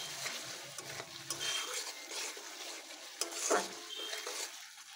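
Ground spice masala stir-fried in a pan, a steady close sizzle with scraping spoon strokes against the metal, a brief louder clatter midway, no voices.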